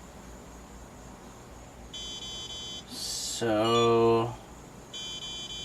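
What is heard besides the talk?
low voltage alarm beeping on a receiver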